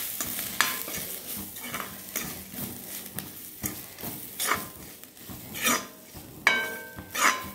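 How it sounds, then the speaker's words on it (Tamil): Potatoes sautéing in oil with chilli powder, turmeric, garam masala and coriander powder for a fried potato dish, with steady sizzling and repeated scraping stirs of a spoon against the pan, close and clear, with no talking. "மறுபடியும் ஒரு வதக்க வதக்கலாம்."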